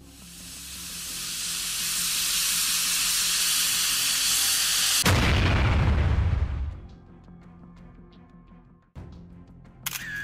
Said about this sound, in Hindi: जिसने यही गलती दोहराई और पूरा फ्यूल स्टेशन उड़ा दिया।